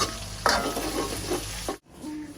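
Food is stirred and mixed in a hot pan, with a steady sizzle and scraping spoon strokes close by, ending with a brief cut before the frying resumes.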